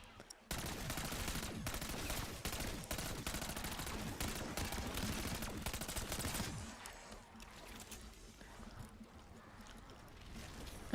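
Sustained gunfire in Call of Duty Warzone, a dense continuous roar of shots for about six seconds that then drops away to quieter game ambience.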